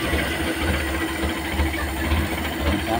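Motorcycle engine idling after its carburetor was reinstalled, a steady loud close-up chugging rumble with an even low pulse throughout.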